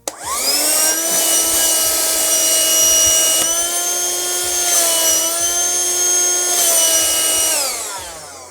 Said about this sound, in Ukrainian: тепер послухаємо і побачимо, як працює пилосос